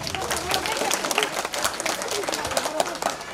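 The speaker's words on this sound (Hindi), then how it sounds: "जोरदार तालियां बजा दो बच्चों" Children clapping hard together at a primary school welcome event, a dense, lively patter of many small hands that stays loud and uneven with scattered voices mixed in.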